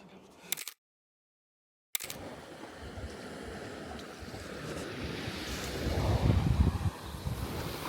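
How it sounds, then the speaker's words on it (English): Wind blows steadily across a beach on Kefalonia, Greece, a soft rushing roar with faint surf beneath, cut by a brief silent gap and swelling louder toward the end. "But it's also super windy."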